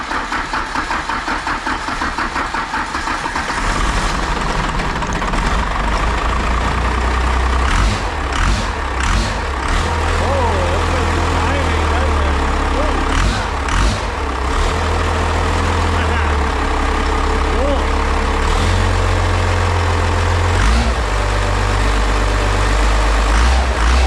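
A diesel engine in an off-road roll-back truck rumbling after start-up, a deep steady idle with knocking and clatter, close and loud, with people talking over it at times.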